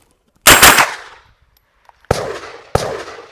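Three sharp, loud gunshots from a PCC carbine by Armia Dallera Custom, fired in a sport-shooting timed drill. The first shot rings out with a long decaying tail, then a faint click, and two more quick shots close together, with no talk.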